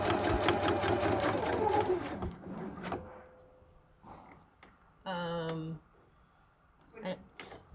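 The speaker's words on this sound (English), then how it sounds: "you're going to sew right to where that ends" A sewing machine with a quarter-inch foot stitches a quilt piece around a five-sided center: a fast, loud, rhythmic needle chatter for about two seconds, then it stops, leaving quieter clicks and a brief tonal whir.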